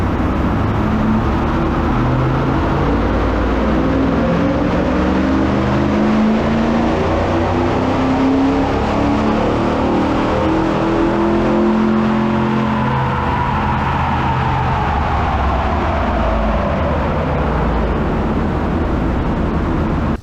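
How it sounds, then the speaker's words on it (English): A Ram TRX pickup truck roars on a dyno during full-throttle pulls, a loud, continuous engine drone with rising and falling pitch sweeps across about twenty seconds, close up and with no talking. "let's get it on the dyno, let's make a few pulls and see what happens"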